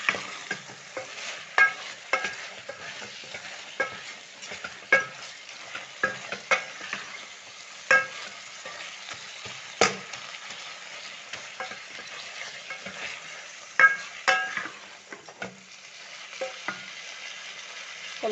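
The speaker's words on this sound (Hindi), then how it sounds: "कम से कम 6-7 मिनट अच्छी तरह भूनना है।" Minced meat sautéing in a pot, with a steady, fairly quiet sizzle broken by frequent sharp scrapes and taps of a spoon stirring it.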